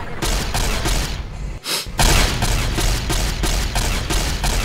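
Gunfire in Fallout: New Vegas during a fight with fiends, with a continuous loud barrage of rapid shots and booms and a brief lull partway through.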